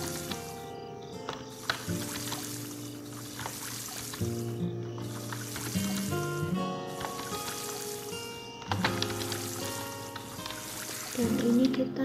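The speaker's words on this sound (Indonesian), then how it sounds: "kalau ngerjain siram-siramnya pagi jadi buang waktu karena ini nyiramnya satu-satu ya" Crops being watered in the farming video game Doraemon Story of Seasons, short splashy pouring blips repeating one plant at a time over light game music, with a person talking underneath.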